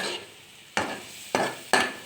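Bamboo shoots being stir-fried in a wok: a soft sizzle broken by three sharp scraping tosses of a spatula, loud and close.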